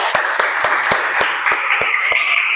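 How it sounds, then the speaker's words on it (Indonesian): Students in a classroom clap in a steady, evenly spaced rhythm of sharp beats over a bed of crowd noise, held at a constant close level. "tepuk tangan dulu"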